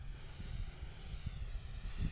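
An E-flite Super Timber RC airplane flies on a windy day, its motor giving a steady, moderately distant drone with slight rises and falls throughout.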